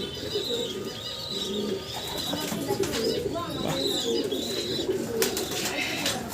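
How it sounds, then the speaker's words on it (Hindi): Fancy pigeons coo steadily in a hobbyist's loft, their soft rolling calls overlapping close by with occasional wing flaps and chirps from other birds over a busy background. "फैंसी कबूतर"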